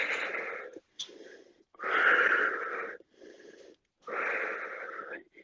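Heavy, rasping breaths come in long, loud, close bursts with short pauses between them during a no-equipment home workout.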